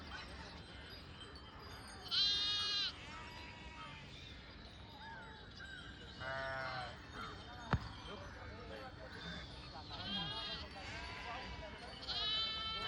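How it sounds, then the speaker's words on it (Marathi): Sheep travelling with the Balumama palkhi flock bleat in short wavering bursts, several separate calls over about thirteen seconds, fairly close, with people talking quietly and one sharp knock partway through. "हे मेंढी माऊली"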